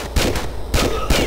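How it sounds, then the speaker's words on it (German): Magnum pistol fire in the Tomb Raider III video game: three sharp gunshots spaced about half a second apart, each with a booming low thump and a ringing tail, loud and up close with no talk. "Komm, wir benutzen den Magnum."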